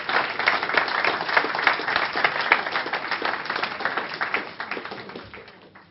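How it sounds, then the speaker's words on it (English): An audience at an estate agents' training event claps for a presenter, with loud, dense applause and distinct individual claps that gradually taper off over about six seconds. "Can you all give Joe a humongous round of applause?"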